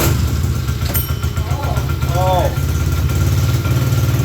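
An old engine that sat unused for over 17,000 hours idles steadily with a low, even throb, loud and close throughout, while a brief exclamation is spoken over it.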